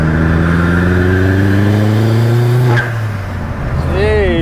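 A car fitted with a new turbo accelerates hard in third gear, its engine note rising loudly and steadily before dropping away. Voices talk over the end.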